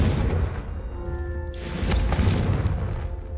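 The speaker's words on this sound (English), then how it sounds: "You can actually blow up all the barrels around you." Barrels blown apart by the Confringo spell in Hogwarts Legacy, a deep booming blast with a rumbling low-end thud and a brief tonal magical shimmer, loud and close with no talking.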